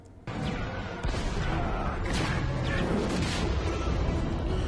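Blaster fire and explosions from the animated series Star Wars Rebels rumble continuously in a dense, loud battle mix, with repeated booming hits and crackling bursts layered over one another.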